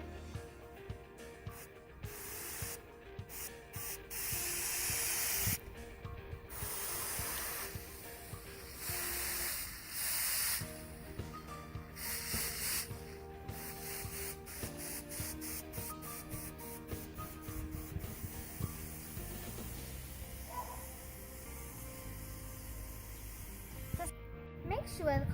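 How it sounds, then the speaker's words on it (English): Short bursts of a spray bottle hiss onto freshly planted zinnias in compost, repeated in uneven spurts through quiet, with a person speaking between sprays. "And here we go now to spray them."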